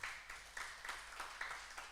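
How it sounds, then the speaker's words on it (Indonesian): Congregation applause during a church worship service: a faint, steady wash of hand clapping with soft rhythmic swells, heard alone without speech. "Berikan tepuk tangan."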